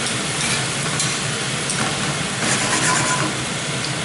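Thinly sliced marinated steak fillets fry in a pan over medium-high heat, a dense, steady sizzle with crackling spits throughout, close and fairly loud, with no voices.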